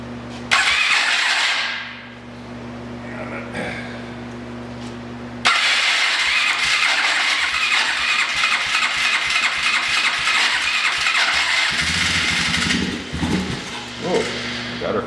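A carbureted engine in a home garage cranks and catches, then runs unevenly with rapid chugging pulses and intermittent backfire pops, loud and close, ending with rougher sputters.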